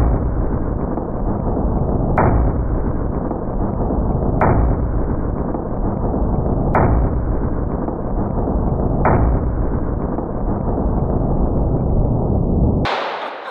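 Gunshots from a .454 Casull rifle-style hand cannon fitted with a muzzle brake, five sharp loud reports spaced about two seconds apart over a continuous loud broadband roar, ending with a bright burst.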